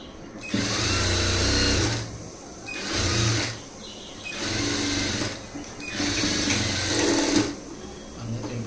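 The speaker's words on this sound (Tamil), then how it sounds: "இதில் வந்து கரெக்டாக நம்ம போட்டதை தையல் போடலாம்." An electric sewing machine stitching a blouse lining, running in five bursts of steady whirring, each a second or two long, separated by short pauses.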